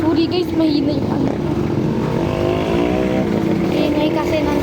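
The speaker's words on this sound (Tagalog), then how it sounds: "Ingay kasi ng tricycle, jeep, motor." Traffic noise of tricycles, jeepneys and motorcycles along a sidewalk: a continuous engine drone with a passing motor rising in pitch, under talking voices nearby.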